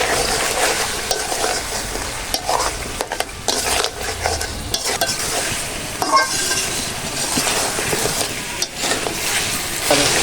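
Country chicken is stirred with cardamom, cinnamon, cloves and bay leaf in a pan in a village home kitchen. A spatula scrapes and clatters repeatedly over a steady sizzle, close and fairly loud, with no talking.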